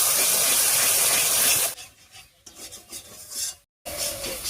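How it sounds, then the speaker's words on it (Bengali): Ground spice paste being stirred and scraped in a hot cooking pan with oil, a continuous loud rasping and sizzling that drops away midway, then returns after a brief silence. "বাটা মশলাটা দিয়ে খুব ভালো করে নাড়িয়ে নিয়েছি।"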